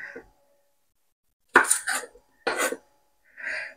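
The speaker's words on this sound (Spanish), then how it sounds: "Y entonces cuando ya tapamos la olla." A metal lid clatters onto a cooking pot of lentils and vegetables in a quiet kitchen, making several short, bright clanks with silent gaps between them.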